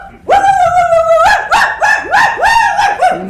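A man imitates a dog on stage, with one long howl followed by a run of four or five rising, barking howls in a steady rhythm, loud and close.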